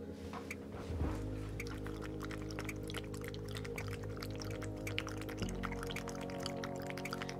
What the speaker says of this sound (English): So the way it works is you squeeze it and water comes out.